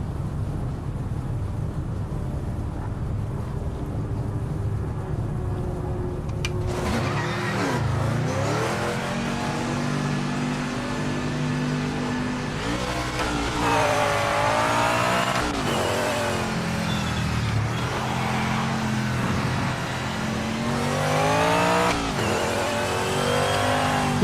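A Lola/917 race car engine in a racing video game drones steadily, then revs hard through rising and falling sweeps of acceleration and gear shifts. It stays loud and continuous throughout.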